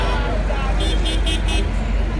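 Danfo bus in Lagos traffic, a steady low engine and road rumble with a run of short high horn-like bursts in the middle, all beneath nearby talking.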